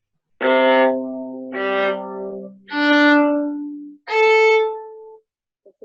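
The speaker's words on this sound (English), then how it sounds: "here I'll play the viola strings" Four open strings of a viola bowed one after another, each a sustained, rich tone stepping upward from the lowest, played alone and close with brief pauses between notes.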